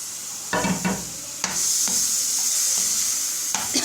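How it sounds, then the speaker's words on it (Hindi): Sabudana tipped into a hot pan for khichdi, with bursts of stirring and scraping over a continuous bright sizzle, close and fairly loud. "अब इसके अंदर वो जो साबूदाना था हमारा वो डाल देंगे"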